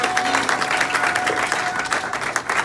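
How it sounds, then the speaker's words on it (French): A church congregation applauding loudly for the Lord, a dense, steady wash of clapping from a crowd of many hands that carries on throughout without a break. "Est-ce qu'on peut acclamer très fort pour le Seigneur?"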